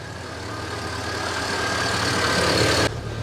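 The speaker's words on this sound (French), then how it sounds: "J'ai démarré le camion depuis un petit moment, donc le voyant s'est éteint, on a la pression." Russian expedition truck engine idling, a steady low diesel rumble that holds even and close, then drops slightly in level near the end, with no talking.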